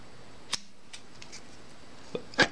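Scissors snip the overlong legs of a froggy fly during fly tying, giving two or three sharp, close clicks spaced apart over near silence, the last cut the loudest.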